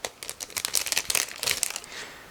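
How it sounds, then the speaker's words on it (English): Crinkly plastic bag being opened to get at a clear frame from an ICM 1/32 CR.42 CN model kit, a close run of sharp rustling and crackling bursts that fade out near the end. "we have one more plastic bag with a clear frame, so again, give me a second to open it"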